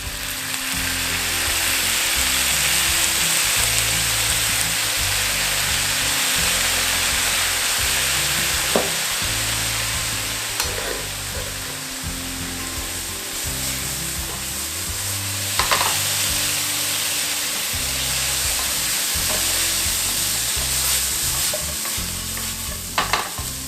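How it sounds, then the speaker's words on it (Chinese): Tofu and carrots stir-fried with soy sauce, white pepper and five-spice in a pot, giving a steady loud sizzle with repeated scraping and clattering stirs throughout and no talk. "先让它呛一下，让那些豆腐啊、那些红萝卜啊，先呛一个酱油的香气"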